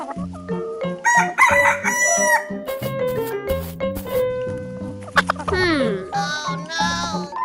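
A rooster crows in a long, loud cock-a-doodle-doo, set among busy, tuneful music and bright cartoon-like sound effects in an animated escape-room chase, with no voices over it.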